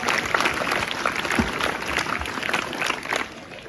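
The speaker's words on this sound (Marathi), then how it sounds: "सर्व यशस्वी विद्यार्थ्यांचं आपण 3 टाळ्या वाजवून स्वागत करूया" Students welcome prize-winning classmates at a school morning assembly with applause, a dense continuous patter of many hands that stays steady and fairly loud before easing slightly at the end.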